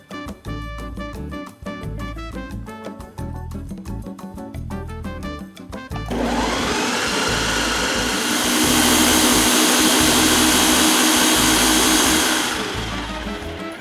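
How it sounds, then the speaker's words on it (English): A blender whirs loudly while blending a prickly pear pineapple fresca, a steady high-pitched roar that runs for several seconds and then eases off, following a stretch of rhythmic background music. "I'm just gonna pop this on the blender and we are going to blend it all up."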